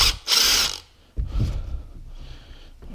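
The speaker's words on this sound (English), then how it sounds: "So I'm going to pull off these Allen head bolts probably set them aside and use them on the new project." A ratchet works Allen head bolts loose on the rear brake caliper of a 1978–79 Honda CB750F SOHC four motorcycle, a loud rapid clicking burst followed by a quieter ratcheting stretch, close up.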